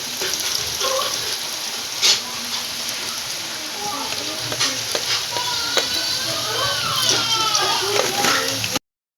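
Spices for a dhokla tempering sizzle and crackle steadily in hot oil, with fag leaves as part of the dish; a dense, continuous frying hiss with sharp pops runs close and loud throughout, with faint voices in the background.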